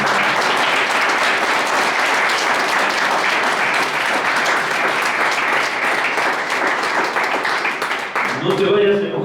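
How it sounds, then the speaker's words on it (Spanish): A church congregation breaks into loud, sustained applause filling the hall, with voices mixed in, and the clapping thins near the end as other sounds take over. "Pues dale palmas al que vive."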